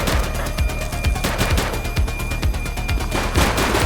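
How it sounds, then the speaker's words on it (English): Rapid gunshots in the police video game The Precinct: a dense, loud volley of repeated shots in quick rhythm with no talking. "She's shooting!"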